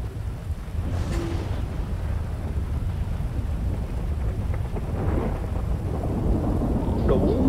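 Steady rain with rolling thunder in the GTA 5 game world, a continuous dense downpour that builds slightly toward the end, with rumbles low beneath the hiss and no voices present.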